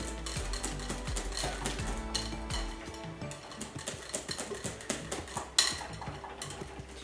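A utensil stirs cheesecake batter in a bowl, giving soft scraping and clinking taps in a quick, uneven rhythm, close and fairly quiet, with a low steady hum underneath for the first few seconds.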